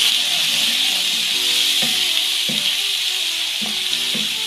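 Ginger, garlic and chili paste sizzles and spits steadily in a hot pot, with a constant bright frying hiss. A utensil clacks against the pot every so often as it is stirred.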